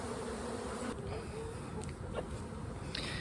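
Honeybees buzz loudly and continuously during a hive inspection, a dense close-up drone with a few individual bees whining past.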